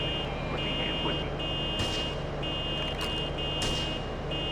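Repeated electronic beeping during Grand Theft Auto III on the PlayStation 2, a steady series of sharp, evenly spaced tones over rumbling in-game traffic noise, with a voice talking in places.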